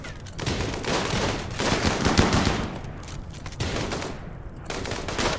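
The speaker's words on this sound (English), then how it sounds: "let's have everybody be firing on Esme." RimWorld colonists fire guns in a firefight, with dense overlapping bursts of automatic rifle fire and rapid shots that rattle steadily with brief gaps.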